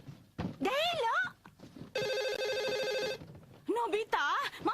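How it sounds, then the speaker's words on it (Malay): A home telephone bell rings in one steady, bright burst of about a second, with a voice speaking before and after the ring. "Tolong angkat telefon tu sekejap."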